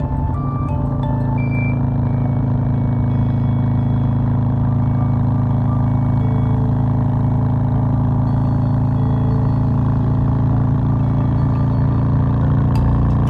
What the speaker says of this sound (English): this engine vibrating through my chest like it's a second heartbeat